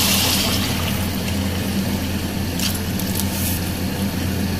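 Water pouring into a clay pot holding beef and spices, a loud continuous splashing rush close by, steady throughout with no voices.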